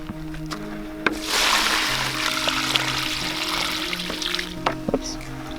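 Settled clay water is tipped off a bucket in a loose, splashing pour that starts after a second and runs steadily to the end, with a few sharp clinks along the way.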